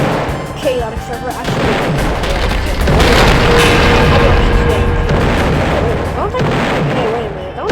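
Rocket launcher explosions during a busy online shooter game event, a dense, loud barrage of booms and blasts rolling almost without pause, with other gunfire mixed in.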